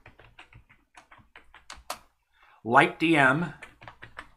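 Keystrokes on a computer keyboard as a terminal command is typed, a steady run of quick close taps broken by a short pause and a burst of spoken words, then more tapping.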